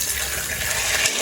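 Water gushes and splashes steadily into a cooking pot during night-time cooking in Jaffna, a continuous close pour with no talking.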